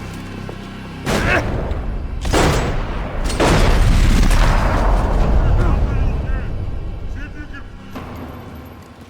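Heavy gunfire in a firefight in the video game Max Payne 3, loud booming shots and blasts hitting in a few sharp bursts, then a rumbling, sustained wash of fire with shouting voices mixed in.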